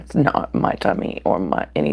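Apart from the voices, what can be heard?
No everyday noise stands out behind the speech.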